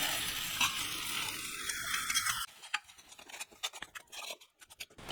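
Mango laddu mixture of mango puree being stirred and cooked over low flame in a pan, a steady hissing sizzle with scraping strokes, then sharper intermittent spoon scrapes and clicks after the sizzle drops away.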